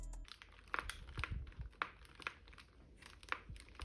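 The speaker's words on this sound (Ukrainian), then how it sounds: "Так, вона поскрипує, трохи гнеться, але якщо робити це цілеспрямовано." A plastic keyboard case creaks and crinkles in short, irregular bursts as it is bent. The sounds are faint and close, with no talk.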